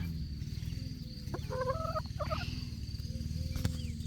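Domestic hens close by give a few short, throaty calls in the middle, over a steady low rumble of background noise.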